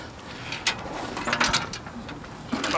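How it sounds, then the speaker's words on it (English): Small screws being worked out of a metal electric motor casing, with soft clicking, ratcheting taps and light metallic scrapes close by, a few sharper ticks standing out from steady low handling noise. "So I'm just going to have to take these little screws out."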